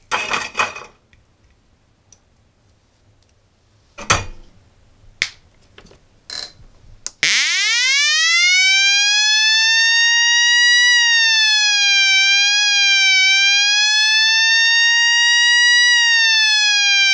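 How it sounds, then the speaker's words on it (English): Scattered clicks and taps, then a homemade electronic siren circuit, run on 7 volts, starts a loud, steady electronic wail that holds, its pitch rising at first and then wavering slightly. "making your own very powerful and crazy siren"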